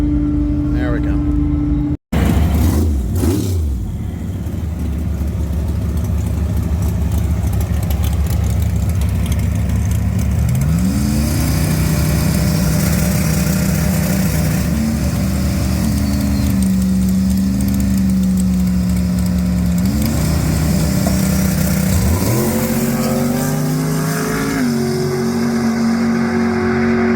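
Drag race car engine at a test-and-tune night, idling loud and steady with several rising revs and surges, close by, with people talking over it.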